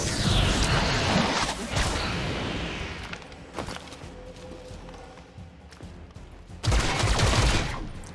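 Rapid bursts of gunfire from the turn-based tactics video game XCOM: Chimera Squad, a dense volley at the start and another sharp burst near the end, with quieter mechanical game sounds between.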